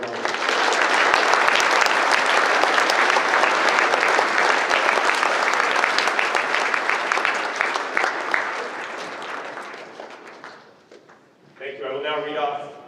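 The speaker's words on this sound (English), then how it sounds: "Let's give them a round of applause." An audience at a National Honor Society induction ceremony applauds the inducted students, loud sustained clapping that gradually fades, followed by a person speaking at the end.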